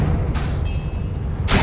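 A Confringo blasting spell explodes in the Hogwarts Legacy video game, making heavy low booming bursts with a sharper crack of blast noise at the start and again at the end.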